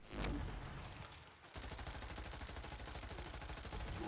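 Jakobs sniper rifle gunfire in Borderlands 3, a loud sustained burst of rapid shots and impacts after a brief lull, dense and continuous to the end with no talk.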